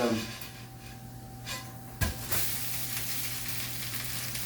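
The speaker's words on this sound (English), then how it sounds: "all you're going to do is flip it up like we would a pancake" A potato rosti flipped in a hot frying pan: steady loud sizzling, a sharp thump of the flip, then the frying hiss resumes and continues.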